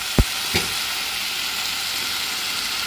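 A pot of lentils and rice with saffron-tinted minced meat at a rolling boil, a close, steady hissing bubble throughout, with two sharp knocks near the start.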